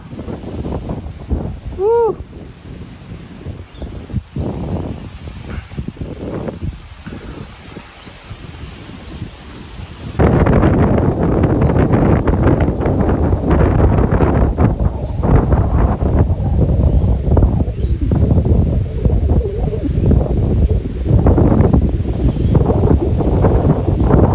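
Strong wind on a Hamilton Island beach buffets the microphone in heavy, continuous gusts that grow louder midway, with faint voices briefly audible early on.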